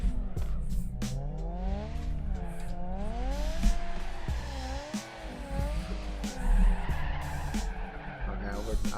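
In the video game Torque Drift 2, a car drifts with its tires skidding and squealing in long wavering sweeps while the engine revs rise and fall, and someone talks over it now and then.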